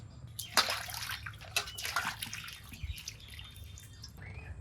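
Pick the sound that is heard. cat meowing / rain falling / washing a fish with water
washing a fish with water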